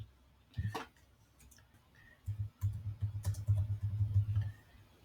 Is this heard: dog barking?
no